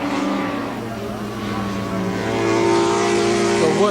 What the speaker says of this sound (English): Works V4 860 Honda versus 130 horsepower of locally built Suzuki with Yoshimura parts, and it's Rob Phillis out to take the lead.